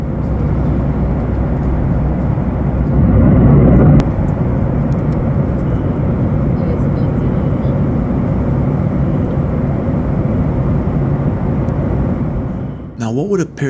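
A steady, loud, low roar of airplane cabin noise during flight continues almost unchanged, a constant engine and air drone filling the space before briefly dropping off at the end.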